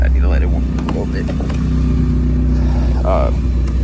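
A car engine idling steadily as it warms up, a constant low rumble close by with a few brief vocal sounds and scattered clicks over it.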